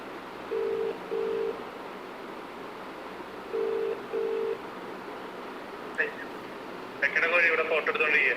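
A phone call rings over a loudspeaker in two pairs of short electronic ring tones, fairly faint, before voices begin talking near the end.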